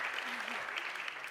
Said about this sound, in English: One big more clap for everybody.